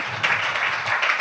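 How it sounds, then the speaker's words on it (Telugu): A church congregation claps together at a prayer service, a dense burst of applause that rises and swells in waves across a short stretch, fairly close and loud with no voices. "ఏది ఇంకోసారి గట్టిగా చప్పట్లు పట్టండి"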